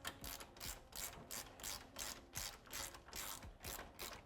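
A torque wrench clicks through a steady run of ratchet strokes while tightening a thread-locked disc brake cover bolt on a Honda Talon R/X, about a dozen evenly spaced sharp clicks, close and alone.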